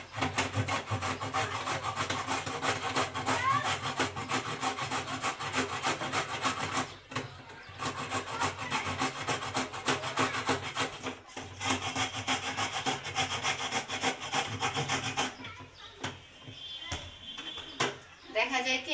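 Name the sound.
carrots being grated on a small hand grater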